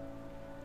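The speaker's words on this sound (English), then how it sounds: "the rain strengthens and lessens" Rain falling over a meadow, a brief, steady, dense patter with a low hum underneath.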